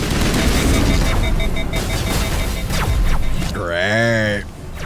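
Sustained gunfire from emptying a magazine in Mass Effect forms a loud, dense rattle of shots that continues for several seconds, then gives way to a warbling tone.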